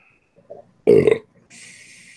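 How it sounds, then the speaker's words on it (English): A single loud, gurgling burp lasting about a third of a second, close up, followed by a steady hiss of background noise. "Burps."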